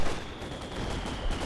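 Incendiary rounds and other gunfire in a Company of Heroes 2 battle form a dense, continuous wash of shots and crackle that stays loud throughout the short stretch.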